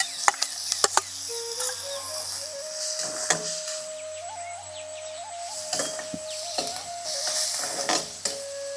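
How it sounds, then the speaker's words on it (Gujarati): Chopped onion sizzles in a pan with cumin, asafoetida, turmeric and green chillies for peanut sabji, a soft, steady frying hiss broken by occasional clinks and stirring taps, with faint tonal calls in the background. "ચોપ કરેલી ડુંગળી ઉમેરી દઈએ."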